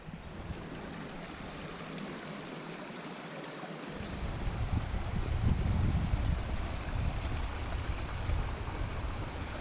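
Water pours over waterfalls and runs down the stream of Crowden Great Brook, a steady broadband rush that grows fuller and louder partway through, with faint wind.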